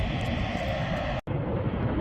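An airplane taking off near Heathrow gives a steady, fairly distant jet engine roar that holds level for about two seconds, with a brief dropout near the middle.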